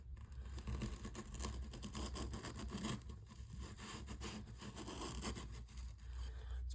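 A coarse 220-grit edge on an 80CrV2 knife saws through a piece of rope, giving a faint, continuous gritty rasp with rapid fibrous scratching strokes, close up and without talk.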